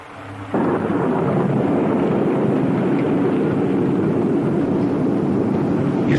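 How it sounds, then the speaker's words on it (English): A heavy, sustained rumble of thunder with rain starts abruptly after a quiet moment and then holds as a loud, dense roar of rainfall for several seconds in a science-fiction television drama scene. "It's raining. It can't be."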